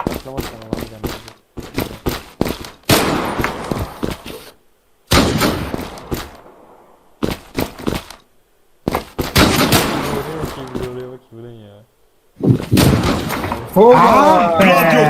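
Luger pistols and a Magnum revolver fire in the Zula online shooter, a series of sharp, loud shots in clusters separated by brief silences, with players talking in between.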